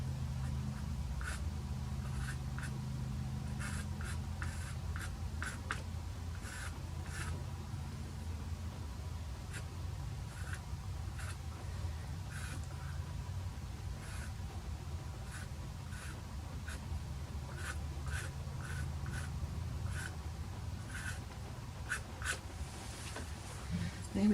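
A coloured pencil scratches across paper in soft, irregular strokes, a steady close-up rasp with brief tapping bursts over a low background rumble.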